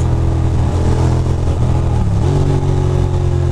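On a Brooklyn road by the BQE, a motorcycle engine hums close by, then shifts pitch as the bike pulls off, steady and loud under the ongoing traffic noise.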